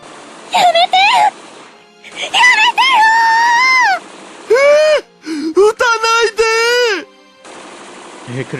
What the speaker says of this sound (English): I hear Kurisu and Daru's screams.